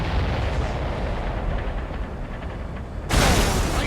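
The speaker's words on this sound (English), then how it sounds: "Did you see that explosion? Looks like that's one of them down." Explosion in the Ace Combat 7 flight game, a dense rumbling roar under continuous jet noise, with a sudden loud blast surging in near the end.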